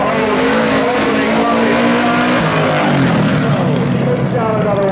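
A Chevrolet Blazer race car roars around Caraway Speedway amid other racing cars, with continuous loud engine noise and rising and falling engine pitch under announcer-style talk.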